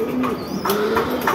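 Native pigeons kept in a small home loft coo in short, close, soft throaty phrases that repeat a few times in quick succession.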